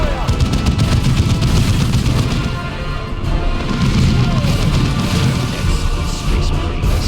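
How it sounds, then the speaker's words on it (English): Heavy gunfire and artillery in the Dawn of War II video game, a loud continuous barrage of shots and booming blasts with rumbling low impacts, dense and close throughout. "Open fire!"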